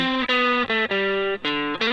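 Saturation on a full music mix in a mixing session: sustained harmonic tones with bright, gritty overtones, playing in short chord blocks that change every half second or so, loud and dense with no voice.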